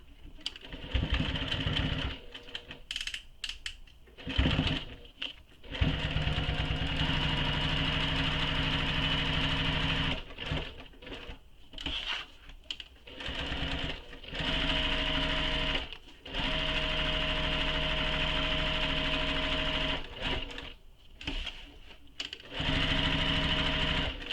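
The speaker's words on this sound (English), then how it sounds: "you're going to sew down the side across the bottom and back up the other side" A sewing machine stitches down one side of a zipper pocket, across the bottom and back up the other, with backstitching at start and stop. The motor whirs loudly in steady runs broken by short pauses.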